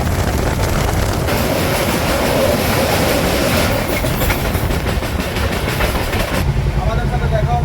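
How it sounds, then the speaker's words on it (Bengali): The Amritsar Mail (13005) running on the tracks after leaving Amritsar: a loud, steady, close rumble with rattling carriage noise and clatter that continues throughout before the tone shifts near the end. "আমাদের ট্রেন তার নির্ধারিত সময় 6:25 অমৃতসরের 6 নম্বর প্ল্যাটফর্ম ছেড়ে বেরিয়ে গেল"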